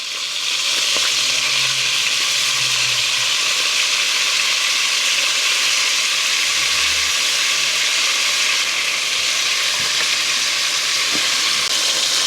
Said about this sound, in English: I'm just moving them around just to get them browned on all sides